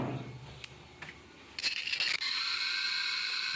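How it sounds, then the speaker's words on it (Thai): Water leaks from a faucet behind a washing machine, heard as a steady hiss that starts suddenly and continues after a few scraping clicks and handling noises. "ได้ยินเสียงหลังเครื่องซักผ้าตรงก๊อกนี้"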